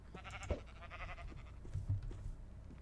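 Sheep bleating in Minecraft, a wavering nasal baa near the start, followed by softer, shorter bleats and a few low thumps, fairly faint and with no talk over it.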